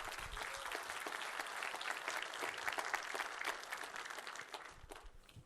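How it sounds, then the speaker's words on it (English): Applause from a programming conference audience after a technical talk, a dense, even wash of clapping sustained for several seconds and thinning slightly at the very end. "why not? An applause."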